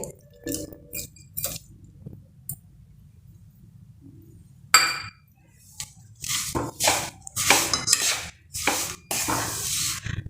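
A spoon works through a cardamom-spiced mixture of finely chopped plain jaggery in a pan, making sticky, squishy scrapes in irregular bursts that grow busier and louder toward the end.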